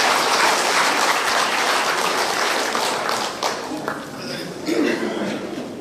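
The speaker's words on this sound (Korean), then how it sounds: "큰 박수로 맞이해주시기 바랍니다." An audience at a Buddhist lay association's special lecture event in a hall applauds to welcome a speaker, with sustained clapping that gradually thins out, mixed with scattered voices and a few chuckles.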